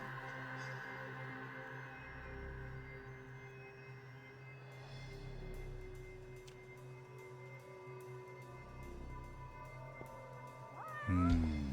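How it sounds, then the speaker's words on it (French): A cat meows in the video game Judgment, faint and intermittent over an ambient game soundscape with steady music tones. A louder sound bursts in at the end. "il doit pas être loin le chat, hein, je l'entends vraiment bien"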